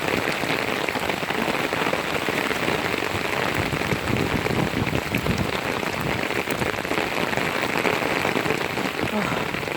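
Rain pours steadily and close by, a dense, even hiss of drops on surfaces with no break throughout.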